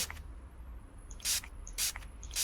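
A cleaning spray in the grocery-shop game Bakery Magnet gives three short, bright hissing spritzes about half a second apart, each preceded by a small click, over a faint hum.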